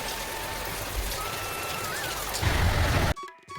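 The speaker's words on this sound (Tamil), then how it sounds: "என்ன ஒரே படப்படன்னு சத்தம் கேட்குதுன்னு சொல்லி வெளில பார்க்குறாங்க. ஒரே மழை கொட்டுன்னு கொட்டுது." Heavy rain pours down suddenly in a steady, loud, dense hiss that swells slightly before cutting off near the end.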